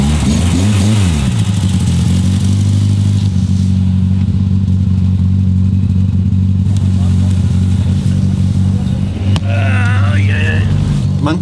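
A performance car drives on the road, its engine droning steadily with rising and falling revs throughout, while a person talks over the engine noise.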